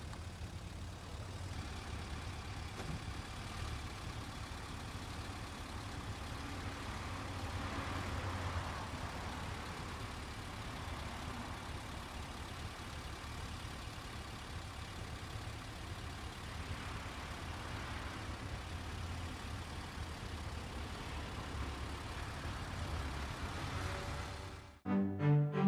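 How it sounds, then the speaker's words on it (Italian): A car engine idles with a steady low rumble and hum throughout, with a brief clunk at the very end. "Fermati e non spengere il motore."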